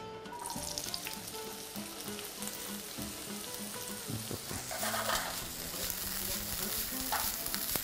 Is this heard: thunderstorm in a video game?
no